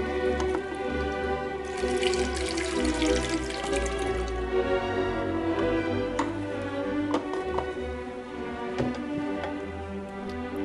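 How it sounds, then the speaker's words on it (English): Liquid film-developing chemical, used stop bath, poured steadily back into a bottle, a continuous close trickle and splash with a few small knocks and clinks, no talking. "And I pour it back into the bottle."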